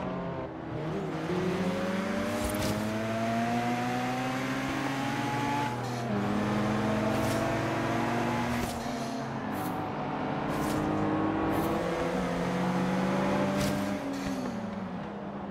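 Engine of a car in Forza Horizon 3 drones steadily throughout, its pitch climbing and dropping through gear changes as the car accelerates, with occasional brief clicks and thumps over the continuous motor.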